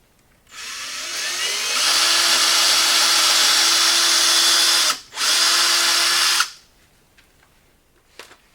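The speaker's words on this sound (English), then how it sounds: "We need to make pilot holes for the brackets." A power drill bores pilot holes for shelf brackets in a garage, running loud and steady in a long whirring burst, pausing briefly, then one shorter burst before stopping.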